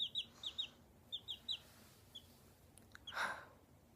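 Week-old chicks give a series of high, quick peeping chirps in short bursts, close by, with a brief louder squawk near the end and a faint background hum.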